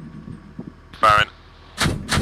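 A tank main gun fires in a tactical military multiplayer game, a sharp blast and then a booming double report with crackling tail, loud and close, over low engine rumble and voices.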